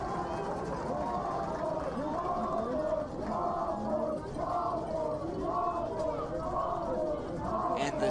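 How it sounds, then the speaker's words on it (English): Zebra Nation fans at a high school 3A state softball championship final chant in rhythmic, repeated waves after ball four, a loud crowd filling the whole stretch. "the Zebra Nation responds with the ball 4 chants of their own"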